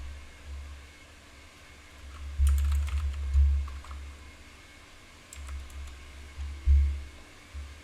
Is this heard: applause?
no